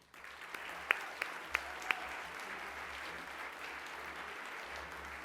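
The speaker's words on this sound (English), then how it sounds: "So please join me in presenting the award and applauding Diane Greene." Steady applause from a large audience at an awards dinner, a dense continuous wash of clapping with a few sharper claps standing out early on.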